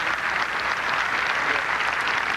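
A crowd applauds steadily and loudly for the whole moment at the BPAA U.S. Open bowling final in 1996, a dense wash of clapping with no break.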